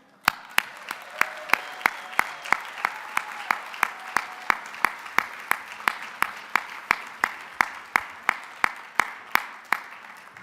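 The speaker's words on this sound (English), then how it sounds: "See how long you can make him clap" A lone pair of hands clapping at a conference talk as a speaker is welcomed, sharp evenly spaced claps that gradually speed up, close and clear with no crowd noise.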